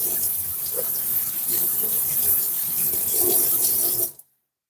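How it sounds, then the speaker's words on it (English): A kitchen tap runs steadily as a knife is rinsed under it during chicken soup preparation, an even close splashing rush that cuts off abruptly at the end. "Just gonna wash the knife off on my hands."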